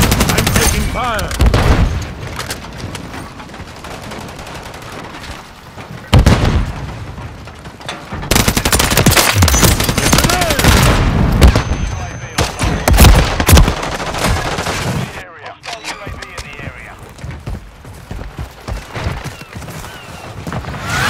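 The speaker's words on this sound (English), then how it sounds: "I'm taking fire!" Dense automatic gunfire and bursts from Call of Duty: Modern Warfare III combat, loud and continuous for about twenty seconds with brief lulls, booming shots layered over constant battle noise; a voice is briefly heard under the shooting.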